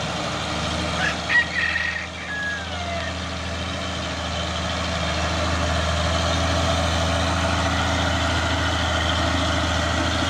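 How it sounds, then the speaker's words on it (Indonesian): Heavy trucks, a brown Fuso and an Isuzu ELF, labour up a steep hill with a low, steady diesel rumble that builds slightly, plus a faint high whine early on. "Terus truk Fuso coklat, dan di belakang juga ada Isuzu ELF."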